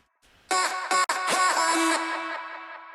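A short chopped vocal phrase with stuttering cuts, layered with a deeper copy an octave below, ringing out and fading.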